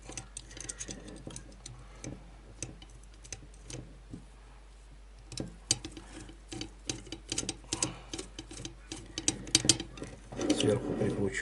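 Small bolts being turned with a flat-blade screwdriver to fasten a homemade Weaver rail bracket for a red-dot sight on a single-barrel shotgun, giving close, irregular ratcheting clicks and scrapes that grow louder and busier toward the end.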